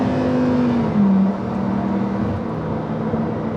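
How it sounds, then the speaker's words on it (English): A Lamborghini Huracan Evo RWD with a 7-speed twin-clutch gearbox drones steadily from the cabin, its engine pitch stepping down through downshifts with a brief pneumatic-sounding blip, continuous mechanical noise throughout and no talking. "this has this little sort of pneumatic on the downshifts to go with all of the other mechanical noise"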